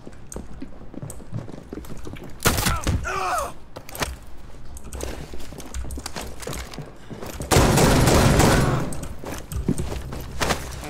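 Rainbow Six Siege gunfire, repeated bursts of shots with a long loud volley late on, mixed with other game noises.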